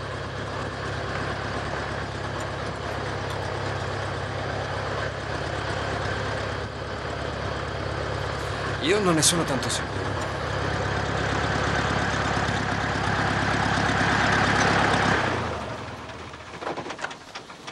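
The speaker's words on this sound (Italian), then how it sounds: "Non spegnere il motore, Iwan" A car engine idles steadily with a low, continuous hum, left running while someone speaks briefly over it; near the end the rumble fades out abruptly.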